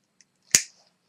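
A single crisp snip of wire being cut with a small cutter during assembly of a homemade PWM box mod, close and isolated against near silence.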